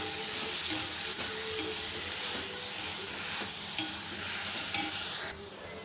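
Two handfuls of washed mint leaves sauté with tomatoes in a pan, a steady hissing sizzle broken by several sharp clicks of a spoon stirring against the pan, with no talk.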